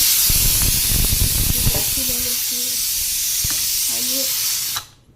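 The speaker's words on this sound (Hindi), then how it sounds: "ये कुकर तो इतनी सीटियाँ मार रहा है।" A steady loud hiss of escaping steam from a pressure cooker whistle, with faint voices and kitchen clatter underneath before it cuts off.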